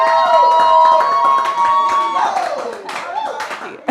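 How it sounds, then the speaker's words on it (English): A round of clapping from a live church audience rises briefly, with hands patting unevenly while voices talk and call out over it. "I thought you guys were going to give a round of applause"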